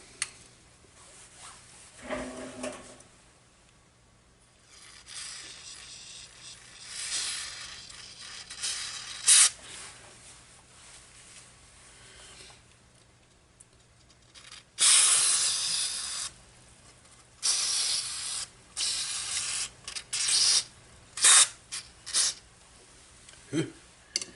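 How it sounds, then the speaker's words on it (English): White lithium grease sprayed from an aerosol can onto the gear teeth of an 8-inch six-jaw chuck on a Clausing Model 100 lathe, heard as several close, loud hissing bursts of uneven length, some short and some sustained. "I'm going to use a little bit of white lithium grease on the gear teeth here."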